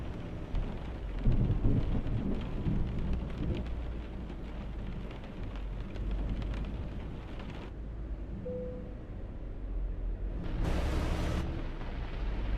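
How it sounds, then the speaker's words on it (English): Steady rain with rumbling thunder during a thunderstorm in Euro Truck Simulator 2, heard from inside a truck cab on a Middle East road; a broad wash of rainfall continues throughout, with a loud burst near the end and no talk. "Or a thunderstorm."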